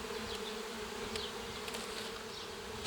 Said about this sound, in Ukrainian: Тут теж достатньо бджоли.